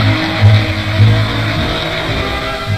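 Military vehicles drive through the streets of Suva, Fiji's capital, with a steady rumbling engine hum and a couple of louder low surges, heard alone without speech.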